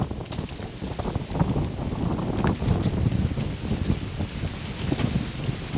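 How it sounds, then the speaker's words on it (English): Steady wind buffeting a microphone outdoors, a continuous low rumble and roar with gusty swells throughout. "Got some wind going today."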